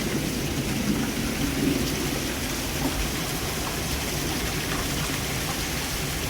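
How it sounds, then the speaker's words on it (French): Heavy rain pours down in a constant dense roar, with low rumbles of thunder rolling beneath it. "on va guetter la pluie encore une fois"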